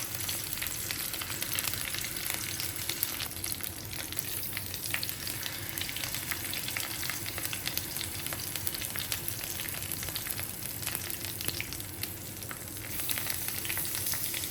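A marinated egg fries with curry leaves in an oily pan for an egg snack, giving a continuous, dense sizzle that stays steady and close throughout with no talking.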